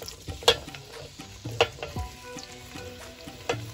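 Onions frying in a cup of oil for vegetable biryani, a soft bubbling sizzle punctuated by several sharp spatula clanks and scrapes against the pot, close and moderately quiet.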